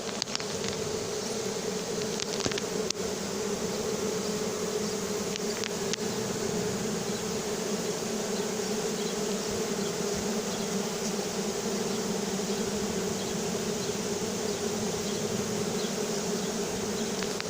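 A honeybee swarm being collected at Soignolles-en-Brie hums as a dense, steady buzz of countless wings, close and continuous throughout with no pauses.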